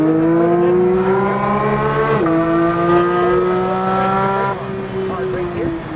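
A Porsche 911 GT3 accelerates hard on Nashville Superspeedway, its engine loud and close in a steady high drone that shifts pitch once mid-run, while a person talks over it.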